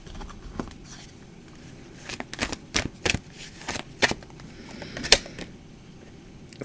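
Angel message cards being shuffled and handled, a close series of soft flicking and snapping card sounds, irregular and intermittent, over a quiet room.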